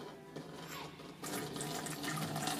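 Hydrogen peroxide is poured into a container, starting as a faint trickle and turning into a louder, steady splashing gush partway through, close by and with no talk.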